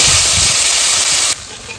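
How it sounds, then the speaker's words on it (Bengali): Ground ginger, garlic, onion and tomato paste hits hot oil in a pan and sizzles with a loud, close burst of hiss that drops off sharply near the end. "আদা রসুন পেঁয়াজ টমাটার বাটা আমি একসাথে বেটে নিয়েছি, এইবার আমি দিয়ে দিচ্ছি"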